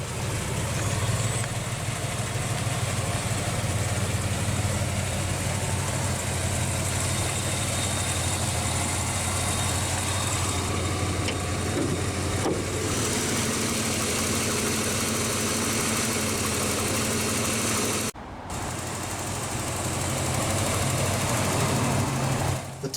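A 1992 GMC Typhoon's turbocharged 4.3-liter overhead-valve V6 idles steadily and close, with a constant low rumble, a brief dropout near the end, then the idle resumes without any talking.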